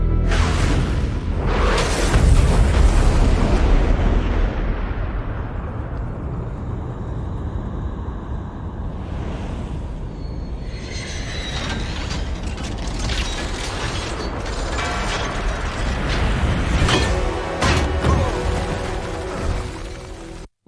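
The attack on the house in Iron Man 3 unfolds as a dense, continuous wall of explosions, crashing debris and clanking mechanical noise, loud and sustained for about twenty seconds with repeated bursts and no talk.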